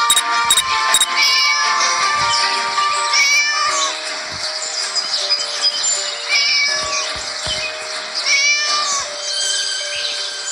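Cat in the Scary Teacher 3D video game meowing and caterwauling repeatedly, loud and close, with drawn-out wavering cries following one another without pause.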